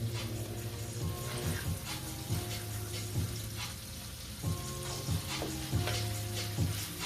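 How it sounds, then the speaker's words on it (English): Chicken, bacon, onion and garlic crisping in a pan over medium-high heat, giving a steady close sizzle with a few light scrapes of stirring. "I'm trying to get that little bit of crisp from the bacon and the onion and the garlic."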